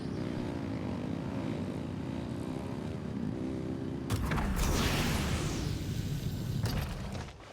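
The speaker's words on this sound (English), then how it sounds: "Rev the engines!" An engine revving in the Genshin Impact video game, a steady droning hum that swells into a louder roaring burst about halfway through, then keeps going with some crackling texture.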